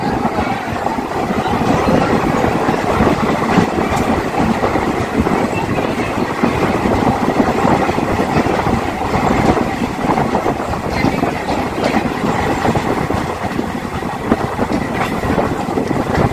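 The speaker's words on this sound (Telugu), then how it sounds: "పదహైదు నిమిషాలు లేట్ వచ్చింది ట్రైన్ ఇక్కడ" Venkatadri Express train rolling along the rails, a steady loud rumble with rhythmic clatter that stays continuous throughout, with no voices.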